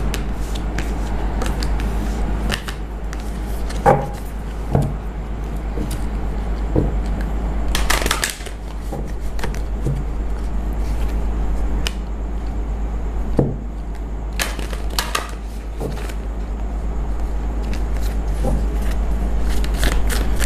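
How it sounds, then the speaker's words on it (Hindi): Tarot cards being shuffled by hand, a steady papery riffling and rustle with occasional soft taps, close and continuous with no talking. "इसको हम एक बार शफल कर लें"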